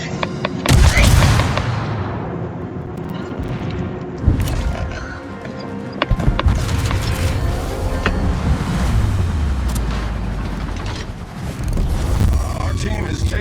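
Naval gun blasts in World of Warships, a few heavy booming shots over the wash of ocean waves and wind, with low rumbling engine tones and someone speaking at times.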